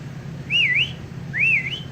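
Two short rising-and-falling whistles from a person, clear and close against a quiet low hum, spaced about a second apart.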